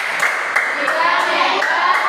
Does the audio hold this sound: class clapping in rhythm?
yes